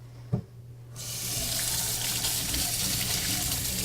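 Dental instruments rinsed under a running tap: a small click, then water gushes on and flows steadily and loudly close by until the end, with no voices.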